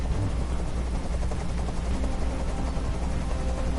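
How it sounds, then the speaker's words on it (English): Helicopter drone in the video game Detroit, a constant low rotor rumble filling the scene, steady and loud with no talking. "Tell that helicopter to get out of here."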